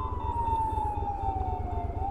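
Ambulance siren wailing steadily over a motorcycle ride, a sustained tone sliding slowly downward above a loud, rhythmic low engine throb and wind noise.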